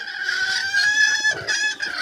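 A broody hen clucks and grumbles in a continuous nasal, throaty run of calls, close up, with no talking.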